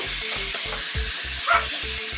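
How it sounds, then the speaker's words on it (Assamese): Pork with onion and tomato frying in a pan makes a steady close sizzle, with a brief louder spit midway and a rhythmic low thumping pulse running underneath throughout. "পিঁয়াজ আৰু বিলাহী ভালদৰে ভজা হোৱাৰ পাছতে মাংসবিলাকো দি দিছোঁ।"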